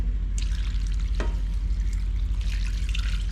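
Water from a cup poured into a pot of crushed spices on a stove, a steady splashing trickle with a brief sharper pour partway through, close and fairly loud against a constant low kitchen hum.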